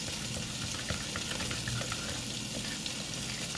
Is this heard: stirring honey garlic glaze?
yes